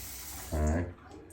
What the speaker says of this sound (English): running it under warm water